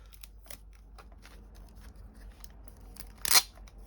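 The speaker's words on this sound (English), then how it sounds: "Let me just take this tape off" Tape pulled off the packaging of a Fanhome 1:8 scale Back to the Future DeLorean model kit, a short, sharp ripping burst near the end after quiet handling noises, close and fairly loud.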